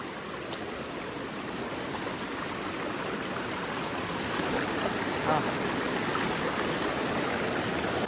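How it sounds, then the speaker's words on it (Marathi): A river running full after rain, a steady broadband rush of flowing water that stays constant throughout, swelling slightly louder in the second half, with no talking. "हे बघा आपली नदी तर आपण आले नदीवरती नदीला पाणी आहे"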